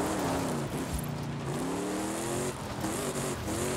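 A car engine driving in Forza Horizon in Mexico, a steady revving drone that climbs and shifts pitch through gear changes, close and loud with brief dips, no talk over it.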